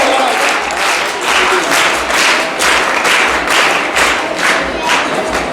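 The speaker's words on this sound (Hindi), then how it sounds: "जोरदार तालियों से अभिनंदन करें।" Loud, dense applause from a crowd at a girls' camp event, close and vigorous, with the clapping swelling in pulses and faint voices mixed in.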